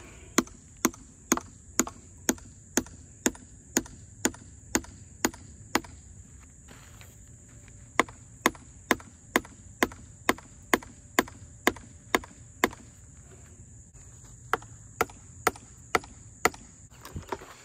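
Sharp metallic hammer taps drive wedges into a rock boulder in a steady, even rhythm, with a short pause midway, over a faint background hum.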